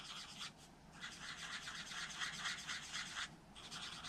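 A color lifter rubs gently back and forth over ink on paper, giving soft, close scratchy strokes in a steady rhythm with a couple of short pauses, faint and intimate.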